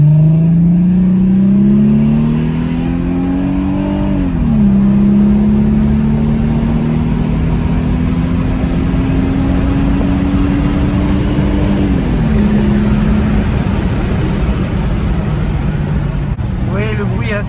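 Mercedes C-Class 320 V6 with its exhaust valve open, heard from inside the cabin while driving: a steady droning engine note climbs, dips at gear changes, then climbs again, loud and continuous throughout.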